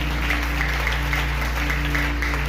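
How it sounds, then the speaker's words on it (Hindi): Loud audience applause at a Christian sermon gathering, a continuous steady roar of clapping from the congregation, even in level, over a constant low hum. "जोरदार तालियां बजाएंगे"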